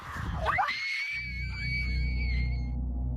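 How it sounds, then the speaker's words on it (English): A sudden, shrill, blood-curdling scream rings out at a haunted school, a brief piercing cry over a low rumbling background, followed by sustained high tones that slowly fade. "Out of nowhere, a blood-curdling scream is caught on camera"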